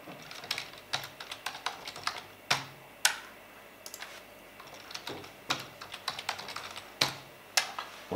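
Fingers type a password on a computer keyboard: steady, close clicks and clacks in an uneven rhythm with short pauses, quite clear, no voices.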